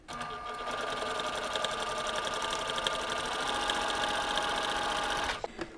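A sewing machine stitches a sawtooth star quilt block with a steady, fast, close mechanical whir that runs continuously for about five seconds, then stops abruptly with a small clunk near the end.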